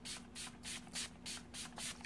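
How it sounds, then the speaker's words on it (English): Seven quick spritzes of 10 Years Younger makeup finishing spray mist out in a steady rhythm, each a soft, airy hiss heard up close and alone. "I'm going to take our 10 Years Younger finishing spray and spritz all over"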